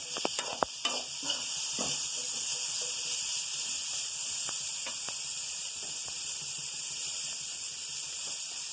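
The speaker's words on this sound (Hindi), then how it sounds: "और इसको भी अच्छे से हम फ्राई कर लेंगे।" Cabbage and other ingredients for chowmein-style Maggi noodles fry in a pan with a steady, bright sizzle and hiss, and a few clatters of a utensil near the start.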